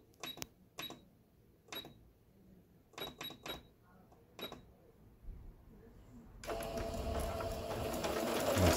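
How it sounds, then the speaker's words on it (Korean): A Singer 7285 home sewing machine runs in short stitching bursts with clicking pauses between them, then runs into a louder continuous whir near the end. "특수 바느질도 아주 잘 돼서 나오고"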